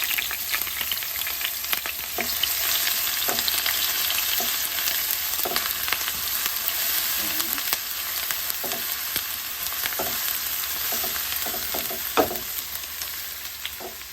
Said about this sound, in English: this oil is hot, so I'm going to add the crushed ginger and garlic and 1 green chilli